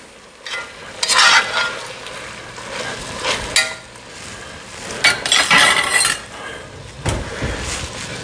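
Vegetables for chicken soup cooking in a pot, heard as a soft steady sizzle with intermittent stirring scrapes and light clinks of utensil against cookware, fairly close, no talking.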